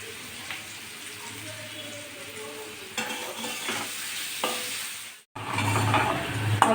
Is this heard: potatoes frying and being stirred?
yes